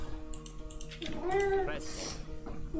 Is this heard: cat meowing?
yes